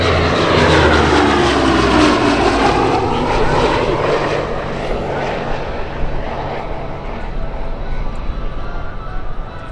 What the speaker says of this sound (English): What a great sound those twin Allisons makes with those big three-bladed propellers.